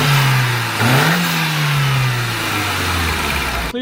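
Car engine with an enclosed cold air intake mounted up to the fender revs up and holds a steady, loud drone, with a brief rise in pitch near the start before settling.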